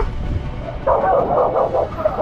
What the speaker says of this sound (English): Doberman in Philippines.